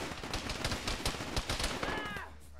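Dense gunfire in the military simulation game Arma during a ShackTac session: continuous overlapping shots and bursts, fairly loud and close, with a ringing tone toward the end as the firing stops.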